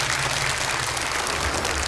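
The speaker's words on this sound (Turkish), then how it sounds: "Bir kez daha kendilerini alkışlıyoruz ve uğurluyoruz efendim." Sustained audience applause at a Quran recitation competition, steady dense clapping filling the whole stretch without pause, loud and close.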